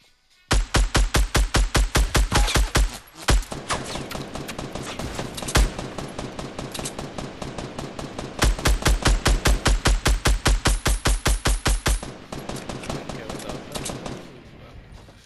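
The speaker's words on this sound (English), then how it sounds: "I'm shooting this guy." Rapid automatic gunfire in the video game Fortnite, long loud bursts of repeated shots with brief pauses between volleys, close and dominant throughout.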